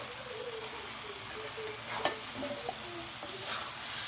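Small chopped chicken pieces frying in spiced masala for a chicken pizza topping, with a soft continuous sizzle and a few quiet scrapes and taps of a stirring spoon, close but faint.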